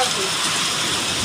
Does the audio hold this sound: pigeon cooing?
no